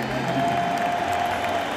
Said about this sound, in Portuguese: A parte do estádio vaiando, outro aplaudindo